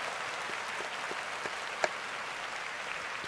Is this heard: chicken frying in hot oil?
no